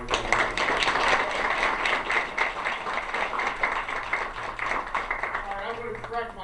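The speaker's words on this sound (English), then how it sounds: "So please give a round of applause for Governor Bob Ehrlich" Audience applause for Governor Bob Ehrlich at a Jewish outreach event, a dense steady wash of many hands clapping at full volume for about six seconds, thinning slightly near the end.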